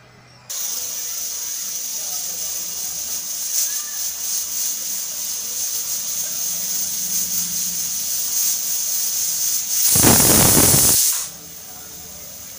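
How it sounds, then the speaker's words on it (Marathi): A pressure cooker on the stove hisses steadily with a high steam whistle, then lets out a sudden loud, forceful steam blast for about a second before settling back to a softer hiss. "आपण कुकरचं झाकण लावून एक शिट्टी काढून घेऊया"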